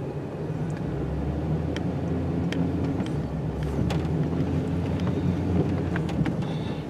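A vehicle fitted with a snow plow reverses into an old small driveway, its engine a low steady rumble with faint scattered clicks and scrapes, moderately close and without talk.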